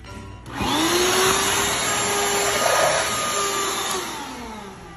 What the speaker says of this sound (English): Vacuum prank on best friend.